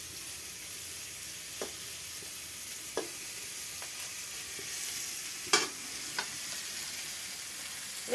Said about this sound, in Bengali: তেলের উপরে দিয়ে এরকম নেড়ে নিলে মাছগুলো আর বেঁকে যাবে না